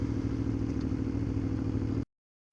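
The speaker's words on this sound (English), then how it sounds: "these bloody bumps are annoying though when you're on a bike with hard suspension" A motorcycle with hard suspension rides over road bumps, its steady engine drone loud and close with rattling clatter throughout, then cutting off abruptly into silence.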